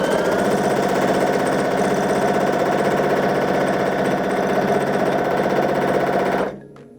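A Baby Lock Allegro sewing machine stitches at speed during free motion quilting. It makes a close, steady, fast mechanical whir for about six seconds, then stops abruptly.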